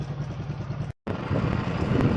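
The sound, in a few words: motorcycle engine running after being started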